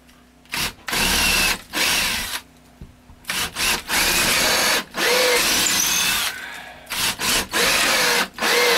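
A power drill bores into a wooden wall stud in a tiny house, in several loud, close bursts of whirring and grinding separated by short pauses.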